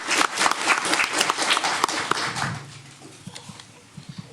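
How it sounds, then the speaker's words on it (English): At an elementary school district board meeting, the audience applauds a library aide with steady, lively clapping that thins out after a few seconds into a few scattered claps. "Give her a round of applause."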